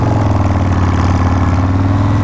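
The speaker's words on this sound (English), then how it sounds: "It makes the sound of the exhaust sound like a supercharged or turbocharged bike" A motorcycle fitted with a Graffeo Powerhouse exhaust runs at a steady idle, a loud, close, deep pulsing rumble with no pauses.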